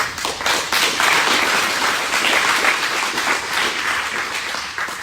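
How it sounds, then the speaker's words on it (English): A crowd applauds warmly, dense clapping swelling quickly and holding steady throughout, fairly close and loud. "a big applause to yourself"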